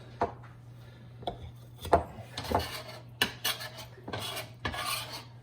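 Cold butter scraped off a chilled cutting board into a bowl, a series of close, irregular scraping and tapping strokes of a utensil against wood and bowl, with no talking.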